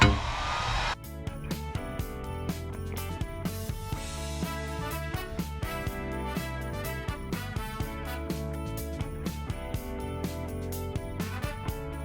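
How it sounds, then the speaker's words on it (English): Heat gun running during an engine and transmission re-install on a GMT800 Silverado 1500, a steady loud fan-and-heater roar with a rapid ticking pulse, starting after a brief click and continuing alone. "Turn the heat gun on."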